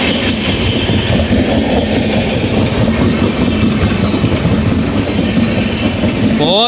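The Seemanchal Express passes Aligarh junction at high speed, a loud, continuous roar of rolling wagons with rapid clickety-clack wheel beats and a brief squeal at the very end.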